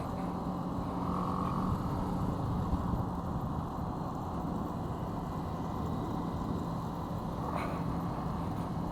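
A motorcycle ride with new rear-view mirrors fitted, heard as a steady, low engine drone and road rumble that carries on without break and at an even level, with no talk over it.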